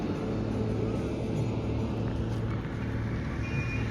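Continuous road traffic on the Kasara ghat, a steady rumble of passing vehicles at moderate volume with no break.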